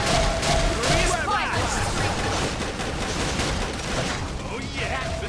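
Dense, continuous gunfire and battle noise in Xenoblade Chronicles X, a loud unbroken wall of shots and mechanical clatter with no clear pauses throughout.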